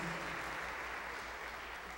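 A church congregation applauds in one continuous, dense wash of clapping hands, steady and fairly loud throughout.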